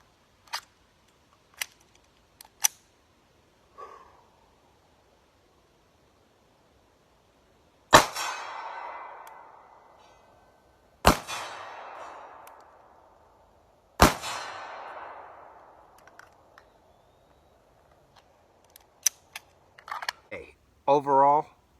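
Pistol shots ring out one at a time at a slow, deliberate pace toward steel plates at 50 yards, each sharp crack followed by a lingering outdoor echo, with a few lighter clicks and handling sounds between them.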